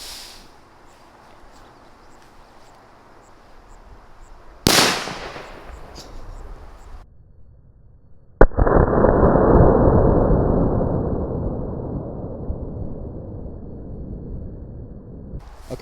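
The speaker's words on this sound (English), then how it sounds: "Here goes a bunny's ear cracker inside of a ball full of sand" A bunny's ear firecracker going off inside a ball packed with sand at a Fourth of July backyard fireworks session: a sharp crack, then a second loud blast that trails into a long rumbling roar, close to the mic.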